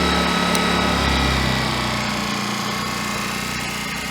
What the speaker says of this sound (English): That is super quiet for a 1400 peak, 1100 sustained generator.